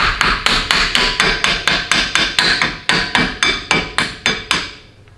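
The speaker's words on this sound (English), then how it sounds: "A little tap, tap." A hammer taps a part into place on a Porsche 944, about fifteen sharp, evenly spaced close knocks in a quick steady rhythm, then quiet.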